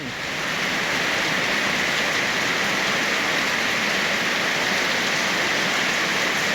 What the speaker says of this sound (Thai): ดูเอาสายฝน